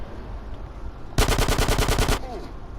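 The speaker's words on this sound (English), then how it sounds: "I hate the fucking pistol sound" A rapid burst of pistol gunfire in Grand Theft Auto San Andreas, many quick shots in a row lasting about a second, loud against a noisy background.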